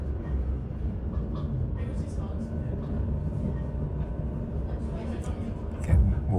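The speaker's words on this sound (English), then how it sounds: "there's a good old-fashioned train there" An old-fashioned train on the Perth to Fremantle line, a continuous low rolling rumble of wheels and carriages nearby, with a faint clank near the end and people talking over it.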